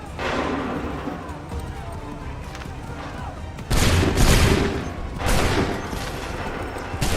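Musket volleys in Assassin's Creed 3, a massed line firing at once in two loud crackling bursts over continuous battlefield din, with shouting voices and horse hooves in the background.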